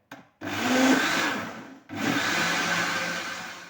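Electric mixer whirring through cake batter made with oil and orange juice, in two sustained loud runs separated by a short pause, steady and close.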